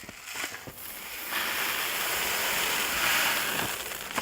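1/8 rock gravel is poured into a wash plant sluice, making a steady rushing, hissing pour that swells after a second and holds close and fairly loud.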